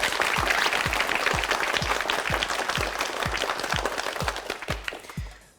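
Studio audience on the Korean TV word quiz show Urimal Gyeorugi applauds after a contestant's round, a steady dense wash of clapping over a few low thumps, fading out at the end.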